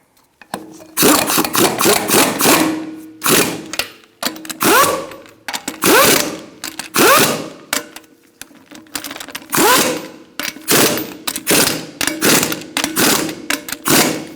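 Ratchet snugging lug nuts on a 2002-2006 Honda CR-V wheel in a star pattern, a close, loud series of rapid clicking bursts repeating with short pauses between them.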